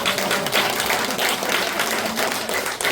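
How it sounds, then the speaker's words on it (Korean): A gathered audience gives a round of applause, steady and fairly close, a dense patter of many hands that keeps an even level throughout the short stretch with no voices over it. "1m. 박수 한번 주세요."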